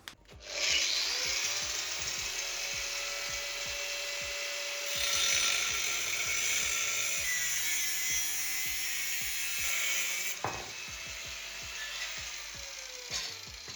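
A power saw grinds steadily through a metal motorcycle exhaust box, a high whining rasp that runs for several seconds, pauses briefly, then resumes cutting before stopping.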